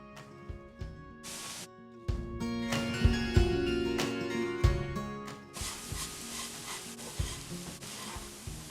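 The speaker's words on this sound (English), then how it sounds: "Put chopped Kunafa dough on a pan." Chopped kunafa dough stirred and roasting in melted butter in a pan, giving soft sizzling with scraping and rubbing bursts of a utensil against the pan, irregular and fairly quiet, with no voices.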